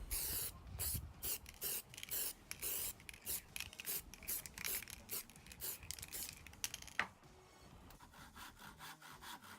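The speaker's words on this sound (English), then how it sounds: "then sprayed with grey primer." A spray can coats a wooden spearhead with grey primer in quick, repeated close hissing bursts, each short and sharp, ending with a longer, softer spray.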